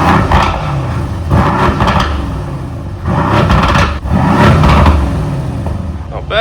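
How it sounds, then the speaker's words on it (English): A Mercedes GLC63 S SUV engine revs repeatedly, several rising surges of rumble close by, with some talk mixed in. "But first, some revs."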